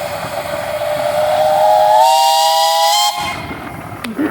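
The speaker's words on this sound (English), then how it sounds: "you got a whistle." A steam engine whistle blows at a steam engine and thresher show parade, rising in pitch and holding a loud, sustained shriek for a few seconds before cutting off into hissing steam, alone and close.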